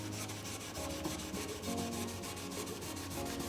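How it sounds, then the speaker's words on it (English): A cloth rubs steadily over guitar frets treated with fret butter on a Maestro guitar, a continuous close scrubbing texture with a quick back-and-forth rhythm and no talk. "And we take a clean cloth, right, to clean off the excess."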